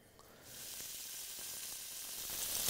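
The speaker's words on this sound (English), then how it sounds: "if you hear the sizzle" Meat sizzles and crackles in hot canola oil in a pan, the frying hiss swelling louder after a moment and holding steady, close up with no talking.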